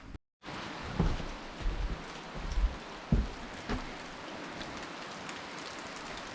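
Steady rain falls on a mountain cabin in a continuous hiss, with scattered louder drips and taps standing out, heard alone without talk.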